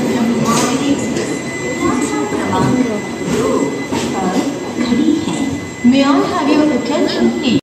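The Mangalore to Chennai superfast express pulls away from the station, with rumbling wheels and metallic squeals heard nearby beneath someone talking over it.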